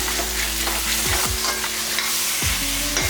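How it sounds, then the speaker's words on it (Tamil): A spoon scrapes and stirs through buttermilk curry (mor kuzhambu) sizzling in a pan, with several distinct scraping strokes over a constant bubbling fry, close and alone. "இதை நல்லா இந்த மாதிரி நல்லா பெரட்டி விட்டுடலாம்"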